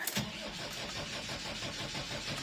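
A slightly rusty Ford Fairmont AU with a weak battery cranks and fires, its engine catching and revving continuously at close range with a rough, steady roar throughout.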